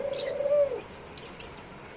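A single soft, low coo from a caged dove sounds nearby, followed by quiet with a couple of faint clicks.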